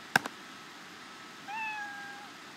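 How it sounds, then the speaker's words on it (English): The Scratch programming cat sound effect plays a single short, clear meow after a brief click, close and alone against a quiet background. "And he meows."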